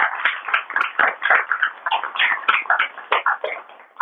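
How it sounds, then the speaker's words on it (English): An audience at the Kimberley Cranbrook mini food summit gives a steady round of applause, dense, close clapping that rises and falls in bursts for several seconds with no talking. "I'm just gonna invite like a round of applause"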